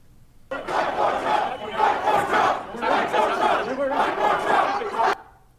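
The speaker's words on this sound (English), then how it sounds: "They also chanted, "Fight for Trump."" A large crowd at the Capitol riot shouts and chants together, loud and dense, with overlapping voices swelling in waves for about five seconds.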